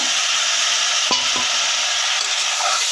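Chopped tomatoes frying in a pan are stirred, giving a steady dense sizzle with a couple of brief scraping knocks from the spoon, close and continuous with no voices.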